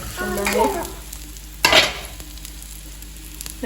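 Soft sizzling of bread and banana frying in ghee in a pan, with a sharp scrape of a utensil midway, and a few light clinks as the pieces are turned.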